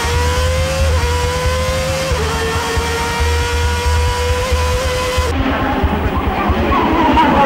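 Ayrton Senna's McLaren race car on its 1988 Monaco pole lap screams at high revs, the engine note rising and dropping through gear changes, loud and sustained, then shifting to a harsher tone near the end.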